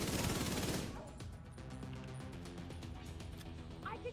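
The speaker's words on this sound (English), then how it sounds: "Shooting." Burst of rapid gunfire in a PvE video game, loud and dense at the start, then giving way to a lower rumbling mix of game sounds and scattered shots.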